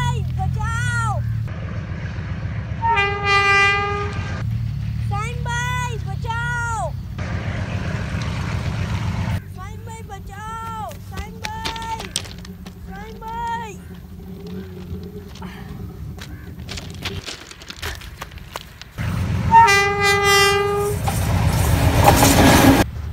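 A train rumbles along a railway track near Attock with steady rolling noise, while repeated horn-like tones sound in bursts throughout.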